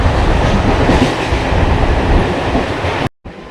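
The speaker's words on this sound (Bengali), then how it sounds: "ট্রেন কিন্তু একদম দুর্ধর্ষ জোরদার চলছে" A fast-moving train heard from inside an empty compartment: loud, steady rumble with clickety-clack of the wheels, cutting out abruptly for a moment near the end.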